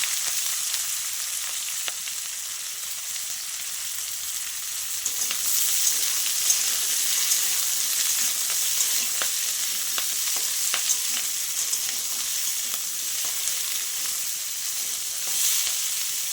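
Potato and cauliflower stems fry in a pan of hot oil, a steady loud sizzle running throughout with scattered crackles and a brief stir partway through.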